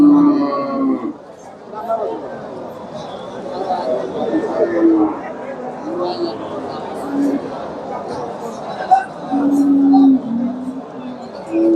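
Cows moo repeatedly in low, drawn-out calls at the Dakumara cattle market, over a steady murmur of crowd chatter and bustle, with a few calls standing out close by.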